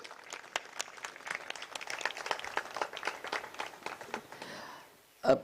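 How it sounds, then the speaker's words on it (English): Audience applause at the Karachi Literature Festival inauguration ceremony, a steady patter of many hands clapping that swells and then tapers off, with a short louder burst at the very end. "give a big round of applause to the organizers of the Karachi Literature Festival over the last 15 years"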